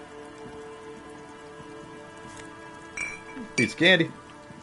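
Steady rain falls in the video game Disco Elysium, a constant soft hiss running throughout with a few louder bursts of game sounds and a spoken voice toward the end.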